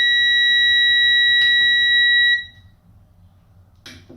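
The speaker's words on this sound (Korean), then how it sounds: "이때 가동을 시키면 부저가 울리며 5번 디시링크 에러를 표시합니다" A high, steady inverter error buzzer sounds for about two seconds on a DC link fault, then stops, followed by a couple of brief clicks.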